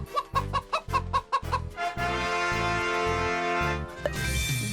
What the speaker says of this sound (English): Let's see what sound the chicken makes.